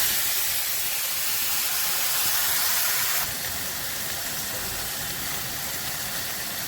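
Nigella seeds tempering in hot oil in a home kitchen, frying for a fish curry, giving a steady broadband sizzle and hiss that drops slightly in level partway through, continuous with no talk.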